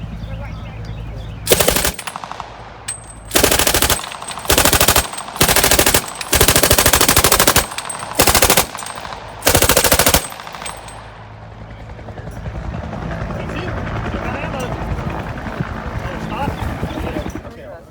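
Loud, close bursts of machine gun fire at a military show, several rapid volleys of varying length in the first ten seconds, followed by a lingering rumble and crowd noise.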